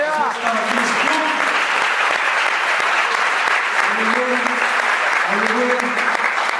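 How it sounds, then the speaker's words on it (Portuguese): Loud, sustained applause fills a church service, dense clapping from the congregation running throughout with a voice singing or calling over it. "Você pode dar um aplauso ao Senhor?"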